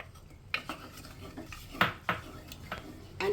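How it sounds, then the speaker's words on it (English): A spoon scrapes and knocks against a pan while tomato pulp and jaggery are stirred for tomato jelly, giving a few sharp clinks and soft scrapes at irregular intervals, close and moderately quiet. "keep stirring till it comes to a jelly form"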